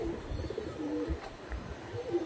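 Soft, low cooing from a pair of Jamuni Panja pigeons, repeated murmurs against a steady faint background hum, fairly close.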